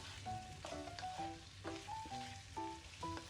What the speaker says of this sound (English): At this juncture, I'll be adding the fish that I cut in cube.